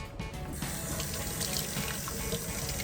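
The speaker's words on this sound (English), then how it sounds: "All right, I'm going to rinse it out." Tap water runs steadily into a sink while a makeup sponge is rinsed out, a loud, continuous close splashing rush with no talk.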